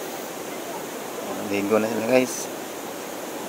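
Piduan Falls in Misamis Occidental, known as the shower curtain, rushes as a steady, even hiss of falling water throughout, with a person speaking briefly partway over it.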